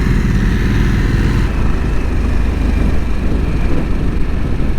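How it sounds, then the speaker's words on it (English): Motorcycle ridden along wet roads at a festival, a loud continuous engine roar close by with a shift in tone partway through. "This is not the right bike for these roads"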